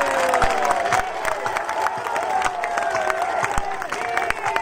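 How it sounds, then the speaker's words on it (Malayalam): An audience at a public prize event in Kizhakkambalam claps and cheers, a continuous mass of applause with scattered shouts and some musical tones in the background. "എല്ലാവരും എഴുന്നേറ്റ് ഒന്നും കൂടി കൈയടിച്ച്"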